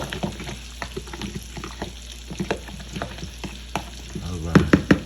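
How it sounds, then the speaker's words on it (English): Chopped onion stirred and broken apart in a hot, sizzling pan for breakfast: a steady fry hiss with irregular scraping and tapping strokes, a few louder knocks near the end. "I'm just going to break some of the onion and just make sure this is fully mixed"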